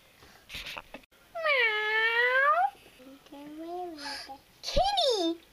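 Cartoon cat gives several drawn-out, rising and falling meows, loud and close, with brief bits of a voice between them.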